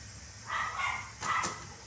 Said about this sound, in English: my dog is going to start barking like crazy because he probably smells the food